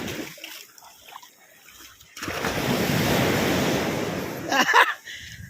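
Ocean waves at a beach in Morong, Bataan, with a wash of surf rising after a quieter start and holding steady, close by, with wind noise and a brief splash near the end.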